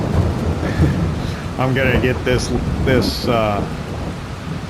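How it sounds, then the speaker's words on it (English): Rain and rolling thunder in the Farming Simulator 22 video game, a steady broadband storm bed throughout with someone talking over it. "it's a little before 11 o'clock and the rain has started."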